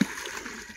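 Fish are tipped into a pond, making a quick close splash followed by a brief gurgle and slosh of water.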